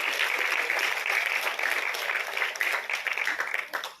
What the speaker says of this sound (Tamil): உங்களின் கைத்தட்டல்கள் மீண்டும் ஒரு முறை